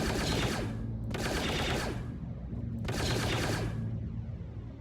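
A siege cannon fires in a video game, producing heavy, loud, dense gunfire in two long sustained bursts separated by a brief lull, with a constant low rumble throughout.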